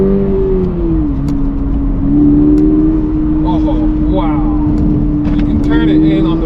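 Toyota GR86 sports car engine pulling under acceleration, a steady droning tone that dips slightly then climbs, heard from inside the cabin with talk over the top.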